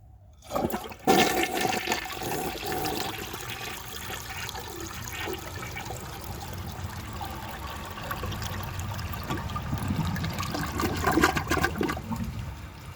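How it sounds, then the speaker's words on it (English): A 1982 American Standard Plebe toilet flushes a washcloth through its siphon jet and trapway: a sudden rushing flush that swirls steadily for about twelve seconds, then cuts off somewhat short, heard close up with no talking. "The flush does cut off a little shorter than I would like"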